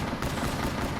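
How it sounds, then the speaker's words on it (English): Rapid gunfire in Call of Duty Black Ops III Shadows of Evil, a dense burst of close, loud shots filling a single second. "This is some piss poor shooting here, to be honest."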